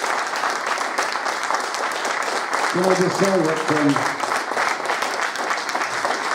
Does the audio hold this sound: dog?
no